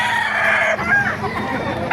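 Rooster crowing at a busy chicken market in Bocaue, Bulacan, a sustained loud crow over dense clucking and crowd murmur from many fowl nearby.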